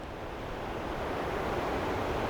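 Ocean surf near Cape Kiwanda on the Oregon coast, a steady, soft wash of breaking waves with a little wind noise, continuous and without voices.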